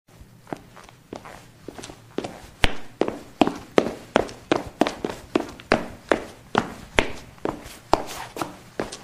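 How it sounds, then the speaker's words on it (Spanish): Running footsteps play as a sound effect: a steady rhythm of about twenty crisp, fairly close footfalls over nine seconds, starting softly and growing louder. "escuchamos unos pasos corriendo."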